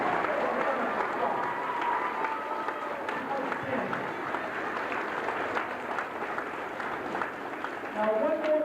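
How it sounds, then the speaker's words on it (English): A crowd applauds a sixth grade class at an evening school science fair, steady clapping from a large audience filling the room, with some chatter and voices mixed in, swelling slightly near the end. "Let's give all these kids a nice round of applause."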